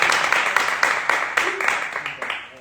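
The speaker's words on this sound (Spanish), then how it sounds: "Un aplauso para eso" Spanish-speaking audience applauding in a room, dense steady clapping with a few sharper claps, rising and slowly fading over a few seconds, fairly near and loud.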